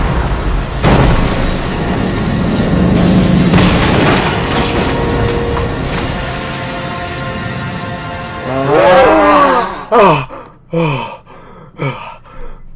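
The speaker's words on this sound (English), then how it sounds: "This is the rocket launcher of Razor." A rocket launcher blast in a Doctor Who fan audio drama: a loud, sustained roaring rush of noise that swells and fades, followed by short breathy gasps and vocal exhalations.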